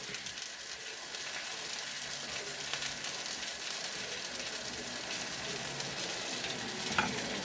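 Onions with a little sugar added sizzle steadily in a pan while being stirred, giving a constant close frying hiss with faint scrapes and no voices.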